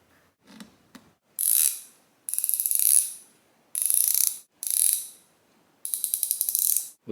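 An ICON 3/8 swivel head ratchet clicks close up in six short bursts of rapid pawl clicking, bright and metallic, preceded by a couple of faint knocks and separated by brief pauses.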